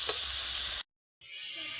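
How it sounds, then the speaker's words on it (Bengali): Vegetables and poha sizzle and fry in a hot pan, a loud steady hiss that cuts out briefly into silence and then resumes. "ভালোভাবে ভাজা ভাজা করে নিতে হবে"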